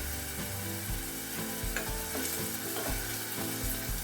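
Onion sizzling and crackling in hot oil in a pan, a steady close frying hiss with occasional stirring scrapes, no voices.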